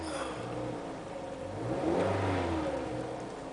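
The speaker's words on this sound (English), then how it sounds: "The engine runs fine." A Chevy HHR engine with a check engine light on runs steadily nearby, with a smooth mid-pitched drone that swells briefly as it revs slightly, no voices.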